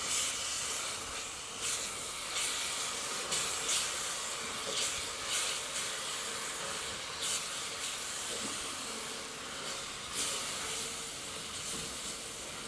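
Ground dates and flour roast in a pan for date halwa, making a steady faint hiss with repeated soft bursts of scraping as the mixture is stirred; no one speaks.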